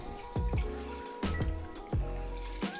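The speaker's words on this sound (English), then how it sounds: "we dump in our coconut milk" Coconut milk is poured into a pan of green Thai curry in several short glugging splashes, each one a thick liquid plop close by, separated by brief pauses.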